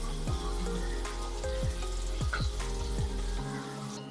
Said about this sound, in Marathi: आता आपल्याला कांदा छान सोनेरी रंग येईपर्यंत परतून घ्यायचा आहे